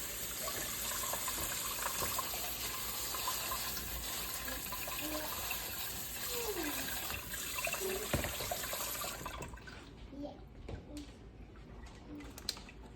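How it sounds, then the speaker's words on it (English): Tap water runs steadily over fruit being rinsed in a strainer, a broad continuous splashing that stops abruptly near the end, leaving faint kitchen clinks. "I'm gonna get these rinsed off."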